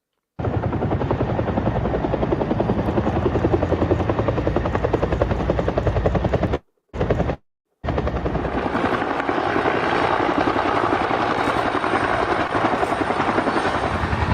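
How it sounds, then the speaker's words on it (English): Steady, loud thumping roar of a helicopter's rotors passing close overhead, briefly cutting out midway before continuing unbroken. "There's definitely helicopter noises."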